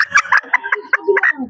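A bantam chicken clucks close by in a series of short, rhythmic, nasal calls, loud and alone.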